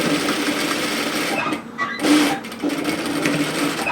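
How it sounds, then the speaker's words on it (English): A sewing machine runs steadily, edge-stitching just in from the edge of a waterfall-collar cardigan, its fast even whirr close and continuous with a brief slowdown near the middle. "we want to stitch just in from the edge, so it's an edge stitch"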